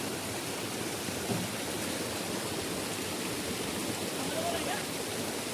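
A village stream in the Konkan countryside flows in a steady, broad rushing wash that stays even throughout, with faint scattered sounds over the constant water.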